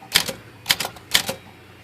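Keys striking on a vintage Groma manual typewriter, three crisp clacking bursts in quick succession, close and loud with short gaps between them, no voices.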